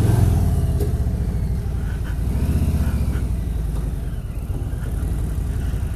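A 2018 Harley-Davidson Street Bob motorcycle idling or pulling steadily before a demo ride, a loud, close, continuous low engine rumble with a throbbing pulse throughout.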